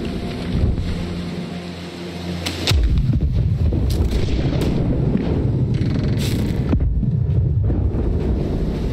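Ship cannons boom in the pirate naval game Blackwake, a deep heavy blast landing after a quieter stretch, followed by rumbling low roar and wind-like noise, with a few sharper reports scattered through.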